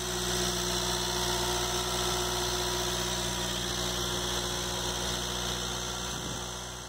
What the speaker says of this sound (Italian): il motore girava bello allegro, anche se un po' rumoroso allo scarico